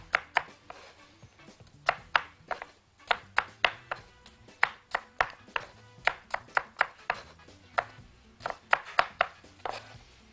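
A knife chops potatoes on a cutting board for fries, producing quick, loud, evenly spaced thuds in steady bursts, close up with no talk.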